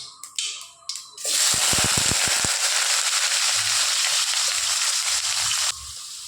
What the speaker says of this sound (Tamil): கடுகு நல்லா பொரிஞ்சிருச்சுங்க